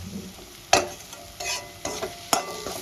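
Ground spice masala with Kashmiri red chili powder stir-fried in oil over low to medium flame, a continuous sizzle broken by several sharp spatula scrapes and knocks against the pan, close and clear, no voices.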